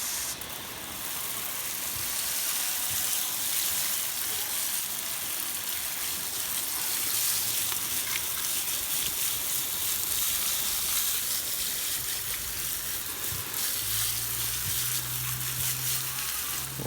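Water poured over hot, dirty rocks from an outdoor fire pit sizzles and hisses in a steady, dense crackle for the whole stretch, with a low hum rising near the end.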